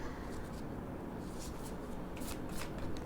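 Tarot cards are shuffled for a Celtic cross reading, giving soft, close riffling and sliding bursts at an uneven pace, fairly quiet, with no voice heard.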